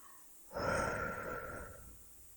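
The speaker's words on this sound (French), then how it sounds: "Soufflez doucement les laissant redescendre." One slow, deep breath out during guided relaxation: a soft, close airy exhale that swells and then fades over about two seconds.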